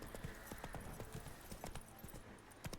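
Roach the horse in the video game Witcher 3 trotting, hooves clip-clopping in a quick steady rhythm, close and fairly faint, with a little talk in the background.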